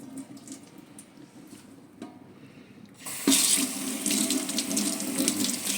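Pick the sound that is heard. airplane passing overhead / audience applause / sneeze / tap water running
tap water running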